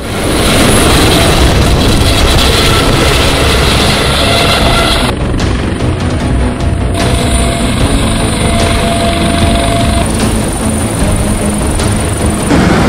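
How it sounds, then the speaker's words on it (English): A helicopter arrives for a jungle casualty evacuation, its loud rotor and engine roar filling the whole stretch, steady and close, with no talk over it. "A helicopter has been signaled to come pick them up."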